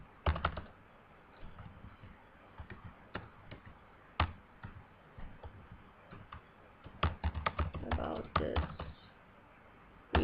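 HTML code is typed on a computer keyboard in irregular bursts of close, crisp key clicks with short pauses between, and no voice over them.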